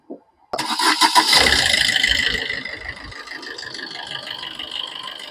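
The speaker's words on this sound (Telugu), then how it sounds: "ఇంజన్ కూడా మీకు సౌండ్ చెక్ చేపిస్తామండి." A 2019 Maruti Swift VDI diesel engine cranks briefly, catches and settles into a steady, close idle with a gradual fade after the initial rev, no talk.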